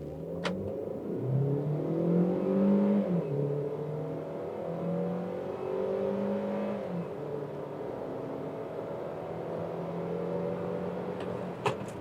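A 2023 compact SUV, a Honda HR-V Touring or Hyundai Creta Ultimate, launches hard from a stalled start with traction control off, its engine note rising and shifting through gears in a loud, sustained run toward 100 km/h.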